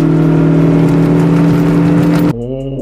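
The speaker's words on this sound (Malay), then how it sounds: "Keluhan lain yang cenderung dibuat oleh pemandu mengenai CVT adalah bunyi mengaum" A car engine with a CVT transmission roars at high, steady revs while accelerating, a sustained droning tone, then drops abruptly to a lower hum.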